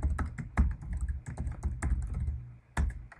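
Typing a password on a computer keyboard: a close, steady patter of keystrokes with a few sharper, louder presses spaced through it, no voices.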